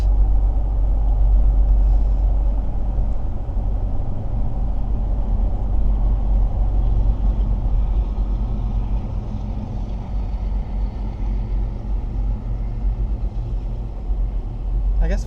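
Interior rumble of a Range Rover driving in a convoy of Range Rovers and Land Rovers, a steady low engine and road drone throughout with a slight dip partway, fairly loud.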